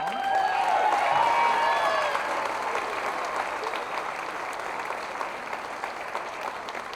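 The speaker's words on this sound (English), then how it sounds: "Can we just have one more round of applause for my mom?" An audience at a Pie Night event breaks into a dense round of applause that swells early and then slowly tapers off, with a faint voice and a little cheering mixed in.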